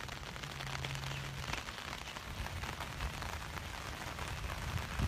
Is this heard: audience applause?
no